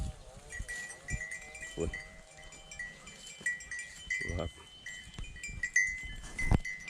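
Free-range native cattle are herded across open pasture, with bells clanking, scattered animal calls and hoof shuffles. A man calls out and voices break in now and then over a steady outdoor background.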